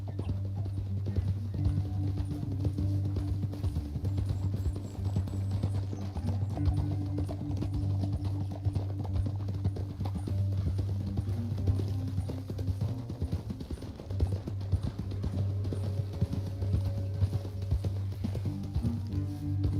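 Rapid rhythmic hoofbeats of horses galloping in Red Dead Redemption 2, continuous over sustained background music with a low droning tone.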